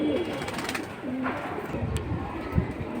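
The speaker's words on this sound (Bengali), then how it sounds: "এখানে কিন্তু সুন্দর সুন্দর সবই হচ্ছে ফ্লায়ার কবুতর" High-flying breeder pigeons sold in pairs give soft, low cooing calls at close range, a steady murmur with a brief louder coo near the end, amid faint background noise.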